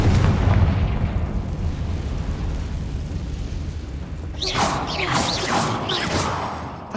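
A Confringo fire spell explodes in Hogwarts Legacy with a heavy low boom that rumbles and fades, followed by whooshing, crackling magical bursts rising higher in pitch.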